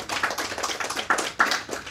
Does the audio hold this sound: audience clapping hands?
yes